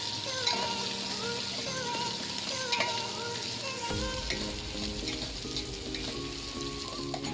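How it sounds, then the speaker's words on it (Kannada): Garlic and two green chilies roast in hot oil in a pan, giving a dense, even crackling sizzle that runs the whole time at close range, with faint tones in the background. "ಇನ್ನು ಗೋಬಿನೂ ಬೆಳ್ಳುಳ್ಳಿ ಮೆಣಸಿನ್ಕಾಯಿ 2 ಎಣ್ಣೆದಲ್ಲಿ ರೋಸ್ಟ್ ಮಾಡ್ತೀನಿ"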